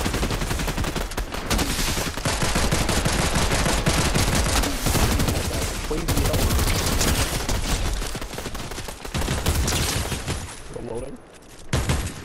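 Loud, sustained gunfire from the Fortnite video game, with dense bursts of rapid shots overlapping almost without pause for the whole stretch and only a brief dip near the end.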